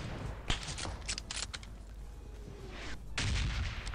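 Gunshots in a video game: a handful of sharp cracks and booms arrive irregularly over a few seconds, a couple close together early on and a louder one near the end, with low ambient rumble between them.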